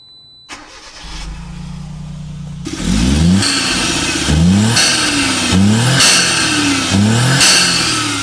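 A Suzuki Jimny JA22W engine fitted with an HKS turbo intake starts with a brief whine, then revs up and down in repeated rising bursts, loud and close with a whooshing intake.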